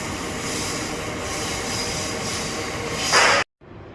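A train rumbling along the rails with steady rolling noise and a rising screech of wheels near the end before it cuts off.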